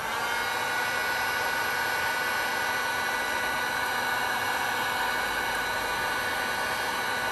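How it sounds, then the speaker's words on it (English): A heat gun blows hot air onto the back of a resin-coated slate coaster, a continuous loud, steady rushing whir with no variation, close by and alone. "Just you need your heat gun."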